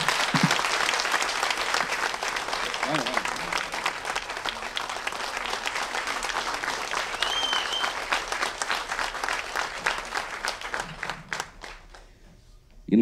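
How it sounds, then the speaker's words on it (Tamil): An audience at a short film screening at Sathyam Cinemas applauds loudly and steadily, dense clapping filling the hall before tapering off near the end. "இன்னும் உங்கள் நல்லா ஓங்கி கை தரலாம்"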